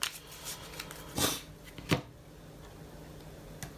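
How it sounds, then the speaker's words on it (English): Deck of Hand of Fate: Ordeals game cards being shuffled, a few soft riffling swishes and taps spaced apart, close and fairly quiet. "These simply just go in a deck shuffled over here"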